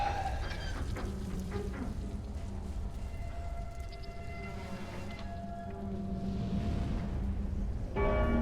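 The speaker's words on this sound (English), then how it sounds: "Ringing the bell." A large bell in the Dark Souls 3 video game tolls with a deep, lingering metallic ring, its resonant tones sustaining and decaying before a second strike near the end, over a low game ambience.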